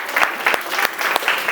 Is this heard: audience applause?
yes